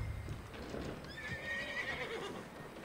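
In Red Dead Redemption 2, a horse gives a high, wavering whinny amid soft hoof clip-clops and outdoor game ambience, moderately loud and without talk.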